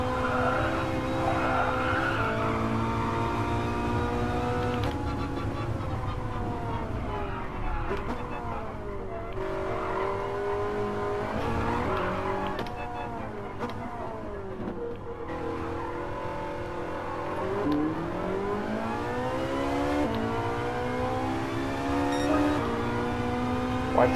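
A Ferrari 458 tuned to 900 hp climbs through the gears in a loud, close engine note, each rising sweep cut by a shift and a short dip before the next pull, with occasional tire squeal.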